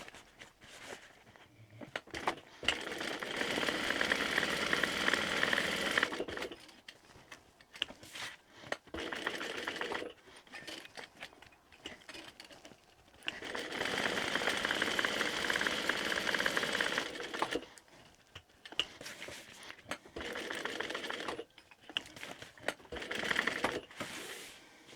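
Sewing machine stitching around a denim-look zip on a tote bag, running in three separate bursts of several seconds each, close and steady, with quiet handling sounds between them.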